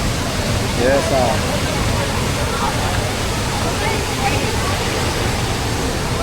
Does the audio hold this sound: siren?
no